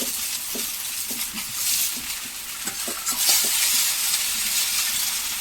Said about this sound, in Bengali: এবার আমি আলু ভাজার মধ্যে ঢেলে দেব